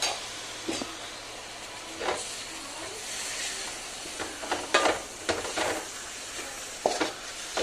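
Tomatoes fry and get stirred into a homestyle chicken curry, a constant sizzling hiss broken by several scraping spatula strokes and clinks against the pan, close and fairly loud.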